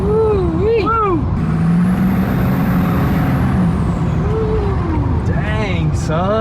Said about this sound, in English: you can definitely hear that turbo a lot louder and it's a lot more crisp, dude, on that throttle